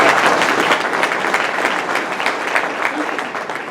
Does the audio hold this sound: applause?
yes